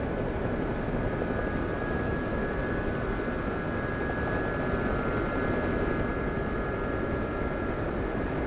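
Steady, loud cockpit drone of a Gazelle helicopter cruising at about 90 knots, constant engine and rotor noise with a faint high whine, no talking.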